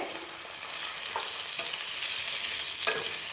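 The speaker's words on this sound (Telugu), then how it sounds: "నేనైతే ఇప్పుడు పోపు వేసుకుంటున్నాను" Tempering spices sizzle and crackle steadily in hot oil for chickpea guggillu, with a few soft scrapes of stirring in the pan; fairly quiet, no talking.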